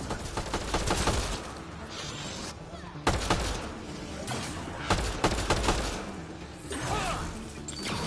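Gunfire in the video game Mass Effect Andromeda, a dense fusillade of rapid shots and sharp impacts in a close-quarters firefight, loud and continuous with mechanical clatter and whooshes.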